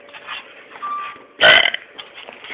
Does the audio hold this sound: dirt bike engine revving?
no